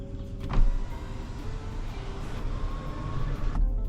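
Electric motor whirs as the power sunroof of a 2023 Ram 1500 Laramie pickup opens, a steady mechanical hum bracketed by soft clicks at start and stop, close and quiet inside the cab.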